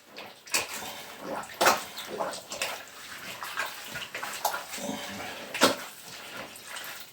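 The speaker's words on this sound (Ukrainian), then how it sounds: "Виливаємо воду і тщательно перемішуємо." Water poured into chilled, slightly frozen sausage mince and worked by hand, giving wet squelching and sloshing bursts at an irregular rhythm, close and moderately loud, with no talk.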